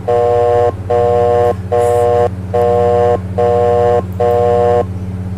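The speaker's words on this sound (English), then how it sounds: "Oh, we got all these buzzers going." Cockpit warning buzzers in a Saab 340 flight simulator in X-Plane, sounding as six loud, evenly spaced repeating electronic tones with short gaps over a steady low engine drone.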